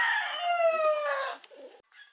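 Game fowl roosters crow loudly and close by at a gamefarm, one long harmonic crow followed by a few brief softer clucks.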